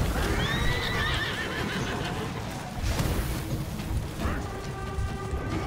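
A horse in the game For Honor whinnies loudly over the rapid clip-clop of galloping hooves, a second neigh rises near the end, and a rain-like wash with clanking fills the background throughout.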